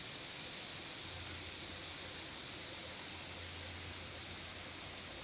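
Steady, dense rain pouring down on Kasur Road, Punjab, a continuous hiss with a faint low hum underneath, close and unbroken throughout.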